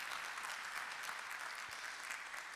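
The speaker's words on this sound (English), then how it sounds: "A round of applause for our illustrious guests." Audience at a conference opening applauds its guests, a steady dense patter of clapping with no voices, moderately distant and even throughout.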